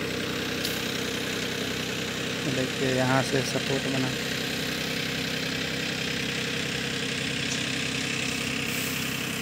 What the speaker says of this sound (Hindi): ये देखिए रस्सी से इधर ट्रैक्टर से खींच रहे हैं